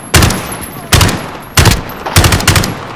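Video game gunfire comes in four loud, close bursts spaced about half a second to a second apart, each a sharp crack with a rattling tail, the last burst rapid like automatic fire.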